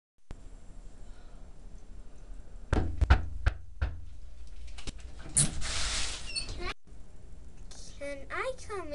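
Series of sharp knocks on a door, several quick raps in a short burst, followed by a rustle and a bird-like whistling warble in a quiet room.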